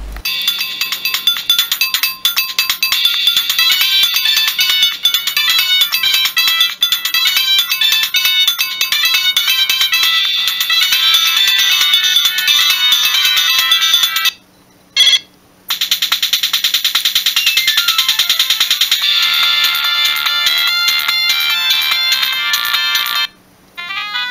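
Polyphonic ringtone from a Siemens CX65 mobile phone, a loud, bright electronic melody of rapid synthesized notes playing continuously, with two brief dropouts partway through and one near the end.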